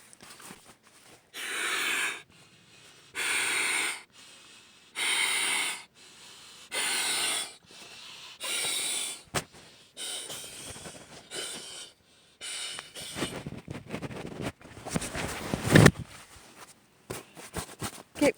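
Repeated strong breaths blown by mouth into a camping sleeping pad valve, about five or six long hissing puffs in steady rhythm, followed by quieter rustling and shuffling handling noises.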